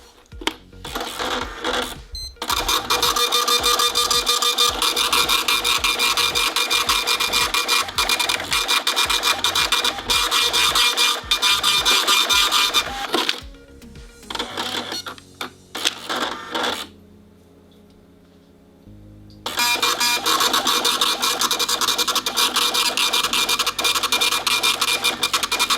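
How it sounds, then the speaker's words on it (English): Star Micronics impact printer running a test print after a ribbon drive gear repair, its dense rapid mechanical chatter and clicking loud and steady for about thirteen seconds, then broken by short bursts, a quiet pause and a final stretch of printing. "So now we're going to do a test run and see how the printer prints."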